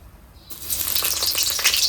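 Soybean chunks hit a hot oiled pan with an abrupt loud sizzle that erupts after a quiet moment and keeps crackling steadily up close.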